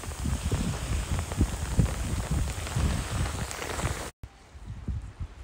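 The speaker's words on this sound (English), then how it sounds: "Look at that. Strong hail." Heavy rain and hail pelt down steadily on San Pablo Bay during a stormy striper fishing outing, a dense, continuous hiss and patter with gusts of wind, ending abruptly.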